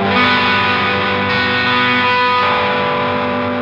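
Electric guitar played through a Costalab Dual Drive overdrive pedal with the tone control fully open, giving a continuous, loud, harmonically rich distorted tone that sustains as chords ring out, with no voice over it.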